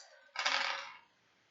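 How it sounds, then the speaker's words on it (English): Dice tumble and clatter across a table during a solo board game, a short bright burst of rattling hits that fades out within about a second, heard alone without talk. "gonna roll my dice."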